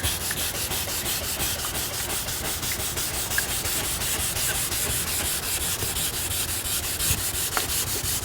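Hand wet sanding of a car's clear coat, a steady continuous abrasive rubbing with a fast back-and-forth rhythm, close and even in loudness throughout with no talking.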